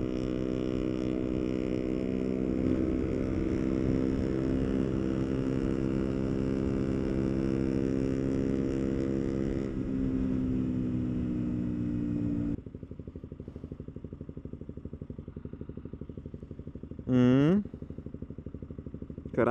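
Motorcycle engine without a catalytic converter growls at a steady idle with a deep throbbing note, then drops to a rougher, quieter chug and gives one short rising rev near the end.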